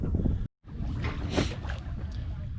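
A sailboat coasts with its engine off in light wind near Catalina, a steady rush of wind and water against the hull, close and continuous with a brief dropout early on.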